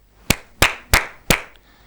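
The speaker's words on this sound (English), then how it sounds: "I had clapped my hands" Four crisp hand claps, evenly spaced and close, in a quiet room with nothing else heard.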